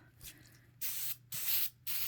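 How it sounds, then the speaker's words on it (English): Three bursts of glue spray from an aerosol can hit the back of velvet fabric. Each hiss lasts about a third to half a second, with short gaps between them. The bursts are loud and close, and no one speaks. "I'm gonna spray the back of this."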